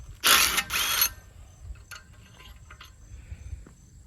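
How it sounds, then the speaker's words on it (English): A ratchet wrench clicks rapidly in two loud bursts while loosening large 11/16 bolts on a big electric motor, followed by quieter metallic taps and handling sounds. "Now we're going to take these 4 bolts off. I'm going to pull these bolts out"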